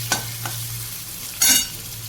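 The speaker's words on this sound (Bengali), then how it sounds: "এবার দিয়ে দিচ্ছি টমেটো, আদা" Tomato and ginger go into a mustard-oil wok: a couple of short stirring scrapes, then a louder sizzling burst as the food is turned, close by with no talk.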